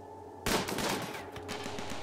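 Gunfire in Rimworld breaks out abruptly after a quiet moment, with a loud burst followed by a quick string of rattling shots that trail off.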